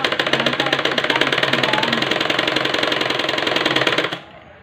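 A sewing machine stitches a dress in a fast, even run of rapid mechanical clatter lasting about four seconds, close and loud, before stopping abruptly into quiet.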